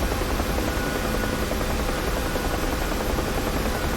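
Steady, dense roar of a UH-1H Huey helicopter's rotor and turbine engine in the DCS World flight simulator during autorotation landing practice, constant and loud throughout with no talking.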